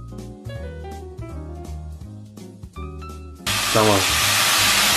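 Mushrooms sizzle as they hit hot oil in a pan, a loud broadband hiss that surges up abruptly after a stretch of music and speech and then holds steady.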